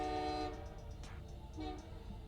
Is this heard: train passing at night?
yes